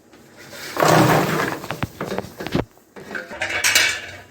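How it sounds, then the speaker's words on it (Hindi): Black carrot kanji mixture tipped into a bucket, a brief close burst of splashing and clattering with a few metallic clinks, then another short pour. "डाल देंगे बाल्टी में"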